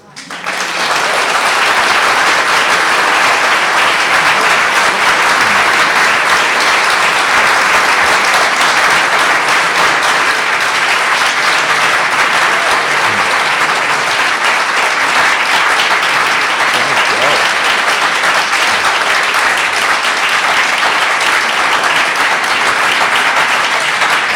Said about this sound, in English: Thank you for that lasting applause.